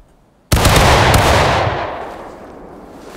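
Musket volley in the Civil War game War of Rights, a single sudden crashing blast of many muskets firing together, then a long rumbling decay fading over a few seconds, no talk.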